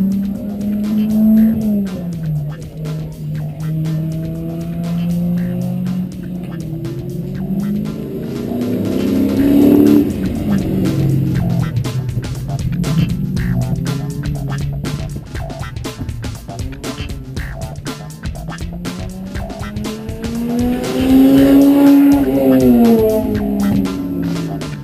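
A McLaren exotic car races around a karting track, its engine droning loud and continuous with rising and falling revs through corners, punctuated by crackles and short bursts of tire noise.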